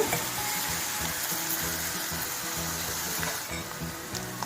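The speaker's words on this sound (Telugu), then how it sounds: "ఇవి బ్రౌన్ కలర్ వచ్చేదాకా వేయించుకోవాలి, పచ్చివాసన పోయేదాకా" Spices sizzle and crackle steadily in hot oil in a pan, frying until brown for a Godavari-style cheeramenu fish curry; a close, continuous frying hiss with faint stirring and no talk.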